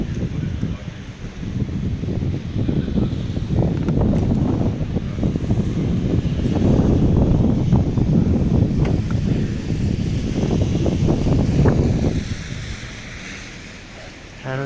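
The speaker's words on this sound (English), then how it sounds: "It's a strong wind," Strong night wind gusts along a street in Medjugorje, buffeting loudly against the microphone in rising and falling rushes that continue throughout, with leaves blowing about.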